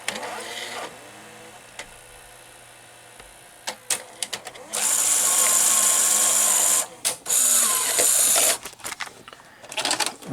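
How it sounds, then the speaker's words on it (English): A Sony GCS-50 industrial Betamax editing VCR whirs close by as it rewinds tape, with a steady high motor hum in two long stretches between mechanical clicks and short bursts of whirring. "So nothing in the loading mechanism activates when you rewind."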